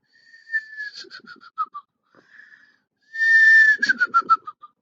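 A voice imitates a ladybug whistling in her sleep in soft, drowsy tones, a falling whistle followed by short pulsed notes, then a louder sliding whistle breaking into quick chirps.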